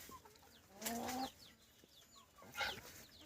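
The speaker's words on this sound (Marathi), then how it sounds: "गावरान कोंबडीचा फार्म टाकलेला आहे" Free-range country chickens cluck in a shed on a farm, with a few short clucks and squawks standing out faintly against quiet background chirps.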